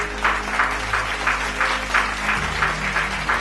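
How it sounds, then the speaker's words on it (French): A church congregation claps in a steady, even rhythm during a French-language service, regular beats of hands over sustained low keyboard tones. "Est-ce que quelqu'un peut me donner son acclamation?"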